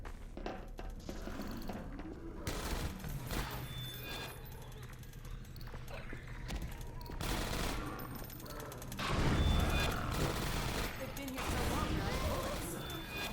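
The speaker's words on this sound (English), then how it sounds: "Careful, I hear turrets." Automated gun turrets firing in the underground Half-Life 2: Episode 1 game, a dense, sustained rattle of rapid shots that swells louder midway, heard under people talking.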